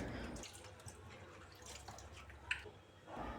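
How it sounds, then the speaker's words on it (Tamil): Chopped ginger being rinsed in water in a home kitchen to wash off soil, with soft dripping and splashing that peaks in one brief louder splash, and no talking. "இஞ்சியில் நிறையா மண் இருக்கிறனால நல்லாவே வாஷ் பண்ணிப்போம்."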